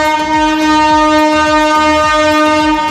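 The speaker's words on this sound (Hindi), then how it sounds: "ट्रेन आ गया भाई साहब, ट्रेन आ गया।" A train pulls into Ara station, a sustained horn or whistle tone ringing loud and steady over rhythmic wheel clatter on the rails, with no voices.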